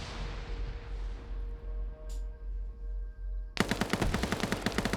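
Rapid automatic gunfire bursts out loud and close in a video game PvP firefight, following a stretch of low ambient rumble and hum.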